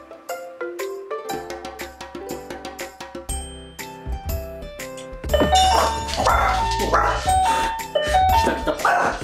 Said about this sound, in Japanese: あとでピンポン来るからね。